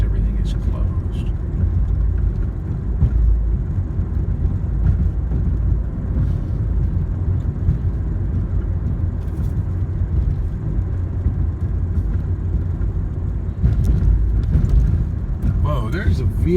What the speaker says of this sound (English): Whoa, there's a vehicle coming out of... Oh, just turned right.